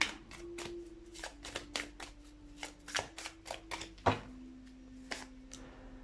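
A deck of tarot cards shuffled by hand in quick riffling bursts, crisp flutters close by and fairly quiet, with a faint steady tone underneath.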